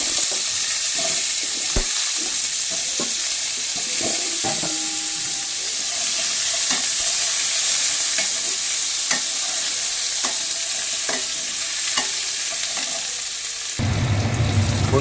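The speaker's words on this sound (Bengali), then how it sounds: "দিয়ে দিলাম এগুলো ভাজার জন্য আলু আর পেঁপেটা।" Potato and papaya pieces fry in oil in a wok, giving a steady, close sizzle with scattered stirring clinks and scrapes throughout, and no voices.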